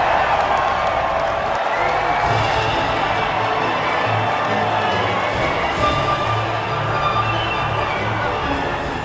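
A large crowd at a podium ceremony cheers and shouts steadily. Clapping and excited calls, some of them high, form a continuous roar that does not fade.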